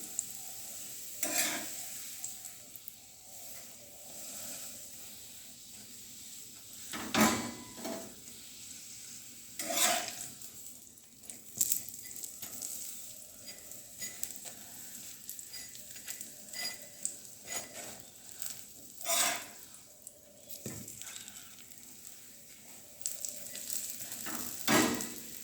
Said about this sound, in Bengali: হ্যাঁ ঘি দিয়ে ভাজছি।